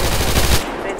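Rapid machine-gun bursts from a video game shootout, loud and dense for about half a second before cutting off abruptly.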